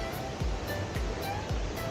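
The Triberg waterfall in Germany roars as a steady, broadband rush of falling water, loud and continuous, with no voices over it.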